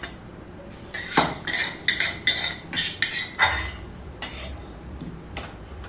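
Fish being stirred in a metal cooking pot: a run of sharp, close clinks and scrapes of a utensil against the pot, irregular and clustered over a few seconds, then tapering off, with no talking.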